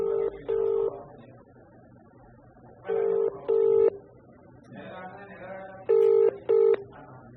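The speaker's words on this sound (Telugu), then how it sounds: "నేను ఈరోజు చేస్తున్నా సార్కి కాల్" A phone call being placed: pairs of short, loud dialing-tone bursts repeat three times between quieter stretches, with a faint voice murmuring underneath.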